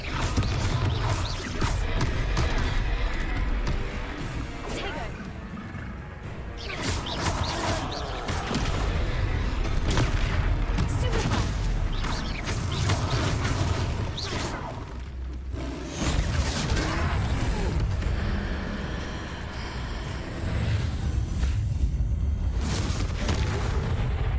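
Confringo spell blasts fired in Hogwarts Legacy during a troll fight, a dense barrage of booming impacts and whooshing bursts layered with battle noise throughout, loud and continuous with little pause.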